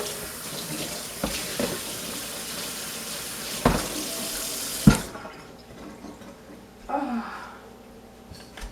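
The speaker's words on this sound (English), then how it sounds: "So we're just going to take it away and rinse it, clean it off." Tap water runs steadily into a kitchen sink while a cutting board is rinsed, with a few knocks and clunks of the board along the way. The water stops partway through, leaving quiet room tone and a brief handling sound.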